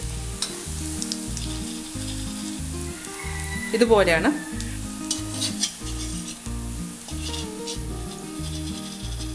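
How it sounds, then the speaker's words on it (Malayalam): Soya chunks deep frying in hot oil for Indo-Chinese chilli soya, a steady crackling sizzle with stirring and scraping of a ladle against the pan, a brief louder surge midway, and a short spoken phrase over it. "എന്നിട്ട് ഇത് മൊരിഞ്ഞ് വരുന്നവരെ ഒന്ന് വറുത്തെടുക്കാം."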